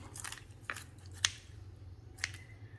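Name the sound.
kitchen shears cutting through a chicken's spine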